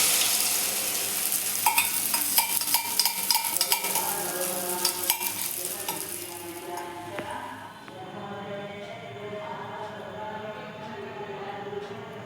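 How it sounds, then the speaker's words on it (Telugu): Egg omelette frying in a pan alongside tomato charu cooking, with a steady sizzle and occasional stirring and scraping scrapes, close and continuous, the sizzle softening toward the end. "అది వేగాక గుడ్డు వేసుకుందామండి. ఆమ్లెట్ తీసుకొచ్చి"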